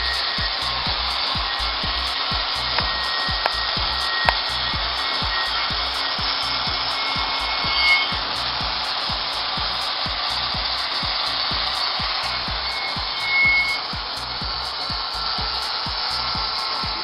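A deck officer buffs the surface of a ship's lifeboat with a power buffer, a steady loud whirring rub with rhythmic pulsing strokes that runs alone throughout, with a few brief knocks.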